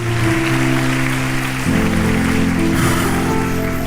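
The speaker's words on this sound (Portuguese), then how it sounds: "Aplauda a Jesus, que Ele merece." A church congregation applauds Jesus in worship, steady dense clapping filling the room over sustained keyboard or organ chords that shift pitch partway through.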